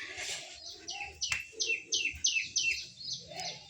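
Birds chirp in a string of quick, bright repeated calls close by, with a soft cooing in the background.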